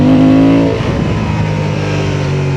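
A Honda Transalp 750 motorcycle engine revs while the bike is being ridden. The engine note is loud and close, its pitch climbing and then settling into a steady drone, with no talking over it.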